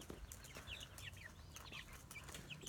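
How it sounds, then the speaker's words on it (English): Meat chickens on a farm give soft, scattered clucks and chirps at a moderate distance over a steady background hum, with no talking. "I'm giving y'all a chicken update here on the meat birds."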